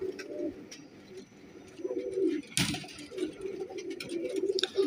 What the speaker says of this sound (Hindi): सख्त और बंद जोड़ में ये कबूतर है।